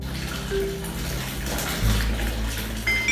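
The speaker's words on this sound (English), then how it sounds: "Bathtub." A bathtub fills from a running tap with a continuous, even splashing rush of water, with soft background music tones underneath and no voices.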